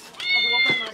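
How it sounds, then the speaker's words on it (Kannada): A cat meow played by an educational toy card reader, one short electronic meow with a bright tonal cry heard close and clear. "ಕ್ಯಾಟ್ ಸೌಂಡ್ ಬರುತ್ತೆ."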